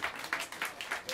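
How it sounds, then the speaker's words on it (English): Audience applause for the drummer at a live jazz quartet show at Smalls Jazz Club in New York City, a fairly faint, steady wash of clapping with slight swells. "give a warm round of applause for the great Greg Joseph on the drums"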